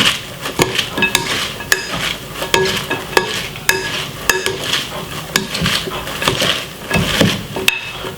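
Chicken chow mein being stirred and tossed in a pan, with busy clinks and scrapes of a utensil against metal over a steady sizzle, loud and close, repeating in quick irregular strokes.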